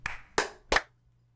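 Three sharp claps from podcast hosts trying to clap together on a count, close and distinct, the strikes loose and ragged rather than in sync, then silence.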